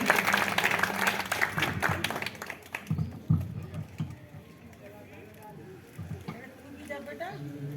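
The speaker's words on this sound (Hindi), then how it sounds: "जोरदार तालियां बजाएं" Audience applause at an Independence Day celebration in a residential colony: dense, steady clapping in the first few seconds that thins into scattered claps, with voices talking over it throughout.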